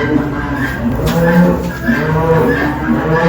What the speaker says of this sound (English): What are the cows are saying?